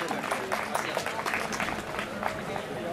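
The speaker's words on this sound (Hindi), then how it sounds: "जोरदार तालियां बजाते रहें," Outdoor crowd clapping at a school sports day with running races, a dense, steady patter of many hands at moderate distance, with voices murmuring faintly beneath it.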